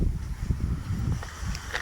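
Steady spring wind in Saltivka, Kharkiv buffets the microphone with low rumbling gusts, continuous and close, with faint rustling above it.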